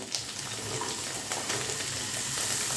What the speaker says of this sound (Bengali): সর্ষে আর কারি পাতাটা হালকা করে একটু ভেজে নিয়ে এর মধ্যে দিয়ে দিতে হবে বিট আলু আর গাজর